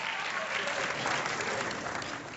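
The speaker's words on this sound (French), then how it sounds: "Applaudissez pour elle au moins." Applause from an audience for a volunteer, a steady, dense clatter of many hands clapping throughout, with a faint murmur of voices underneath.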